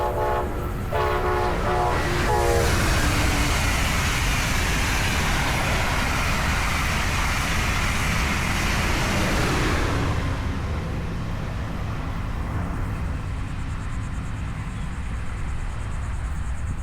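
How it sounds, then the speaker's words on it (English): Brightline's America 250 train sounds its horn in a stuttering series of blasts as it nears, then thunders past with a loud, sustained wheel roar that eases off into a softer rumble. "And now the America 250 train again,"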